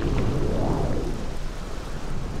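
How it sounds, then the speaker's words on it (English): Steady rain falling in the video game Morrowind, a continuous broadband hiss with a low rumble beneath it that holds at the same level throughout, with no voices over it. "Is it still raining?"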